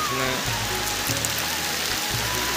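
Heavy rain pours down in a dense, steady hiss that fills the whole moment, loud and close with no break.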